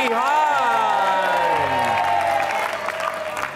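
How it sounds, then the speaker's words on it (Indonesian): A studio audience on the Indonesian TV dating show Take Me Out Indonesia claps and cheers for contestant Holly, a loud sustained wash of applause with whoops and shouts over a host's voice. "Wah, boleh berikan tepuk tangan buat Holly dan juga"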